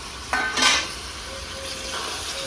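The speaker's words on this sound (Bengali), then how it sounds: "গ্রেভির সঙ্গে কষে নেবো।" Potatoes stirred and fried in mutton gravy in a pan, a couple of scraping stir strokes over a soft steady sizzle, close and fairly quiet.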